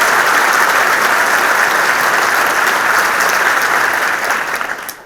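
A loud, close burst of audience applause at an academy event fills the hall evenly, then fades out in the final second.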